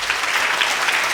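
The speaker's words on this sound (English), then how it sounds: "that's a thunderous applause" A lecture audience applauds steadily and loudly for a speaker, dense clapping filling the room without pause.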